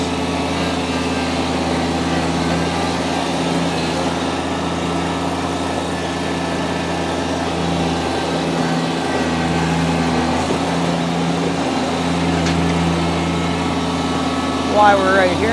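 A Kubota BX1880 18 HP diesel sub-compact tractor runs in high range, a steady, moderately loud engine drone throughout with little change in pitch or speed.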